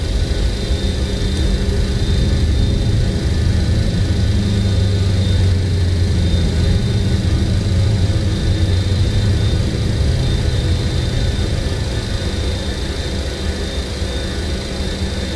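Jet airliner engines roar steadily through a takeoff climb in Microsoft Flight Simulator, an old smoky jet departing Semarang, a dense, continuous low rumble with broadband hiss that holds loud and even throughout, with no voices.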